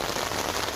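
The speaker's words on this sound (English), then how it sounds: "And now it's hailing pea-sized hail" Pea-sized hail falls in a dense, steady broadband patter with no breaks, close and fairly loud, with no voices.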